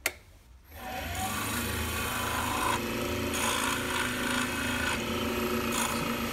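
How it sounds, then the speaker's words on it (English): A wooden bangle spinning on a mini lathe is burnished with friction wax polish, giving a continuous rough rubbing rasp after a brief quiet start, steady and close, shifting slightly in pressure. "So I'm just going to burnish the inside and then flip it over and do the outside"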